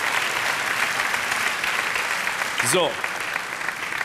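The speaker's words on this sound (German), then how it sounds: "Vielleicht nochmal einen großen Applaus für unsere helfenden Hände heute Abend." A studio audience at a TV game show claps in steady, dense applause for the stagehands, with a brief whistle-like sweep cutting through partway and a voice briefly heard.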